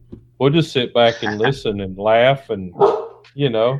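A dog barks in the background under nearly continuous conversation from a voice, the barks faint and partly masked by the talk.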